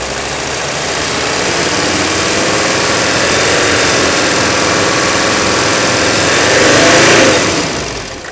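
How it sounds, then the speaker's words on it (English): An old Mercedes diesel engine runs close and loud, with a rough, clattering idle. Near the end it revs up off idle, swells to a harder roar, then eases back down. "Look at it come off idle, and you can see how those injectors just move right out."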